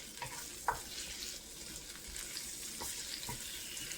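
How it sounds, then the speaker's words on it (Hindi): Whole black peppercorns fry in a pan with a faint, steady sizzle and a few small crackles and pops, quiet and close with no voices. "थोड़ी सी काली साबुत मिर्च हम इसमें ऐड करके इसको फ्राई कर लेंगे"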